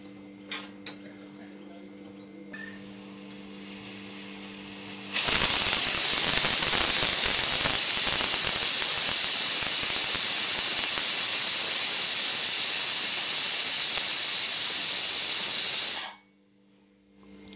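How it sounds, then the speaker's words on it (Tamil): A pressure cooker full of chicken biryani lets out a loud, continuous hissing steam whistle that starts abruptly, holds steady for about eleven seconds and then cuts off, with a low kitchen hum before and after. "இப்போ 2 தடவை விசில் வந்துருச்சு"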